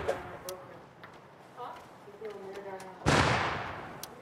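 A grenade explosion in Rust Console Edition bursts suddenly and loudly after quieter game sounds and someone talking, leaving a broad rumbling blast that fades over about a second.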